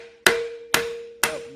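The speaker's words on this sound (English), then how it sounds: "take a long punch, go all the way through, and just pop that whole cap out" Three evenly spaced metallic hammer blows drive a long punch through a Toyota solid axle to knock out a cap, each strike sharp and ringing before fading.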